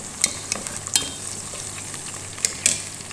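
Onions sizzling in a pan for chicken biryani, a steady hiss punctuated by a few sharp scraping stirs and clinks of the spatula against the pan, close and clear with no voices.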